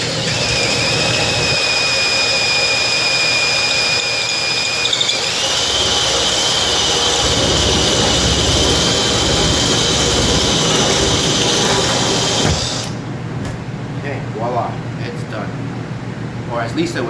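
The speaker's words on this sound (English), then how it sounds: "this hole saw is perfect for the 1-inch bulkhead that I'm going to use" A drill spins a hole saw into the wall of a plastic tank, cutting a 1-inch opening, giving a loud, steady grinding whine that holds for about twelve seconds before dropping to a quieter hum.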